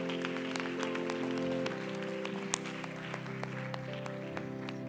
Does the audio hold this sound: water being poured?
no